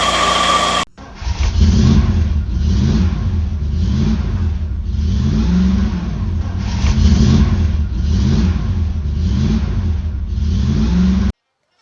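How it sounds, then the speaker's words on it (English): An MGB GT engine with a failing water pump idles roughly and noisily with a steady, rhythmic pulsing whine, heard close up after a brief start. "we have something of a noisy engine. I think it's the water pump"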